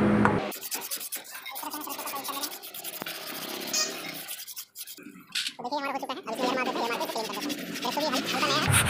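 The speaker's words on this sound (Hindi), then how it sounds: "हल्का हल्का सरस पेपर मार लेना है क्योंकि ये चिकना होता है" Sandpaper rubs back and forth over the brake drum of a Royal Enfield Classic 350, a close raspy scratching in repeated strokes, mixed with some background voice.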